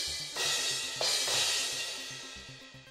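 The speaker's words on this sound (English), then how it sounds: "And these are the crash cymbals." Crash cymbals in a drum kit on a children's show ring out in two bright washy crashes about a second apart, shimmering and fading over soft background music.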